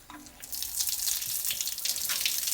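Water rushing steadily through the washer tank, filters and pumps of a BMW 730D screen washer system as it is flushed, a continuous close hiss like a running tap with no talk.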